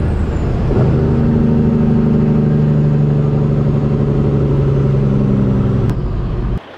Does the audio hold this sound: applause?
no